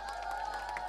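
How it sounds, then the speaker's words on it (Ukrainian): Applause from the audience at a village karaoke event in Turka, a steady wash of clapping and crowd noise through the whole second, fairly loud and without speech on top. "Оплески."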